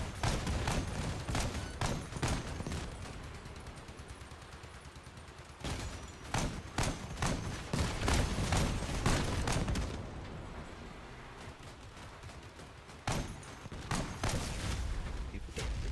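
Video game gunfire and grenade launcher shots rattle in dense bursts, rapid volleys of sharp reports interrupted by brief lulls, fairly faint overall and steady throughout.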